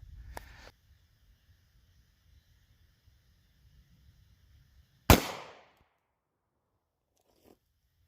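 A single sharp, loud 9mm gunshot fires Ammo Inc 115gr JHP into ballistic gel, with a brief decaying report after it, following a faint click and quiet lead-in.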